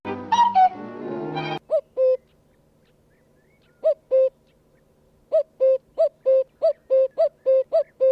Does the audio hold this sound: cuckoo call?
yes